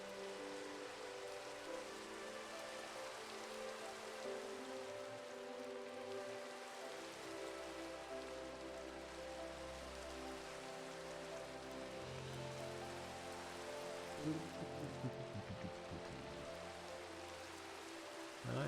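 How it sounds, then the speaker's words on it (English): Steady rainfall in the video game Minecraft, an even, continuous hiss of drops throughout, with soft tonal music faintly underneath. "It's raining."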